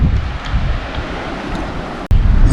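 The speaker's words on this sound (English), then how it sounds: "the wind is kicking up" Strong wind roars across Maple Lake in Algonquin Park in a steady, buffeting rush, with a brief dropout near the end before the gusty noise returns.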